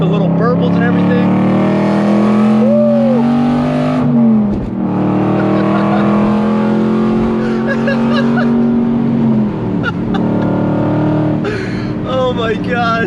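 An Aston Martin V8 Vantage with a VelocityAP GT4 Supersport exhaust and 200-cell cats revs loud and close, the engine note rising and falling through downshifts, with people talking briefly near the end.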